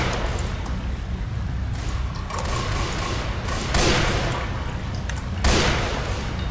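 Gunfire in the Left 4 Dead 2 video game: a dense, rattling stream of shots over noisy background, with a couple of heavier bursts standing out, fairly loud and continuous.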